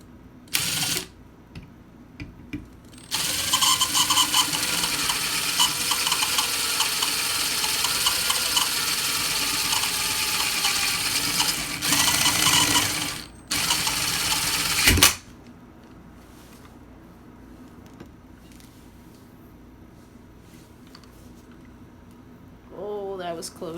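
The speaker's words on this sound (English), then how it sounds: "you want to make sure not to go through the other wall, otherwise you're going to drill right through your cup" An electric drill with a big bit bores a hole in a cup, whining loudly for about ten seconds, pausing, then running briefly again before stopping, with quiet moments around it.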